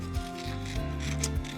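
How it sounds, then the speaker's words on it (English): Scissors snipping through paper to cut out a grass shape, a close rasping, rubbing sound in short strokes over a steady background drone. "I'm just grabbing my scissors and I'm gonna cut the grass out"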